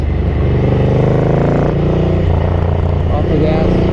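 A Ducati 900SS Bevel motorcycle engine runs close by, its deep rumble rising and falling as the throttle is opened and closed, with someone talking over it.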